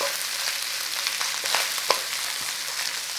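Sausages and onions frying hard in a pan as peppers go in and get stirred through, with a loud, dense, close sizzle and a few soft scraping stirs over it, no voices.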